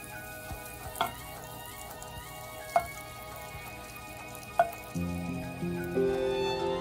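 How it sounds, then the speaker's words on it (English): Butter sizzling in a frying pan while making a sweet egg sandwich, a steady soft crackle with a few sharp clicks, then a louder hiss swelling in near the end. "Toss a half teaspoon of butter on the pan"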